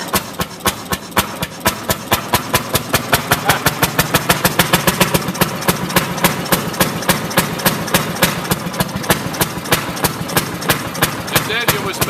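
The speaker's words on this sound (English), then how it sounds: "This engine was made to go forwards or backwards." A railroad speeder engine runs with rapid, regular firing beats that speed up and then settle into a steady chugging rhythm, loud and close throughout.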